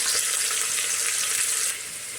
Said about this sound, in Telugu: పచ్చిమిర్చి గోల్డెన్ కలర్ వచ్చేదాకా ఎగరగాలి